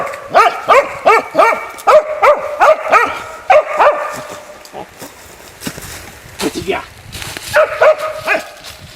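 A dog barks in quick repeated bursts, a rapid run of sharp, close barks followed by a few whiny yips, while a person talks nearby.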